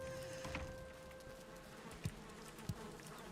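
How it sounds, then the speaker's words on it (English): Bees buzz in the Valheim video game, a continuous close drone with a steady pitch, joined by a couple of soft knocks. "I hear the bees are happy"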